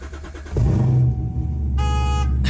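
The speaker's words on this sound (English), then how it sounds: "Let me give you a little cold start." A car engine cold-starting, with a loud broadband surge after half a second that settles into a steady, strong idle rumble, with a brief high tonal whine near the end.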